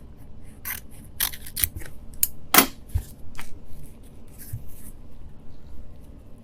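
Scissors cut Oratex aircraft covering fabric for the underside of a Tripacer wing, a series of crisp snipping strokes close up at an irregular pace, with one loud sharp cut in the middle and quieter shuffling between.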